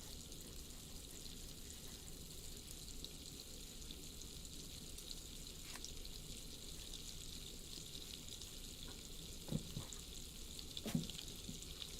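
Butter melting in a pan over gentle heat, a faint, even frying hiss that runs continuously, with a couple of small ticks and pops near the end.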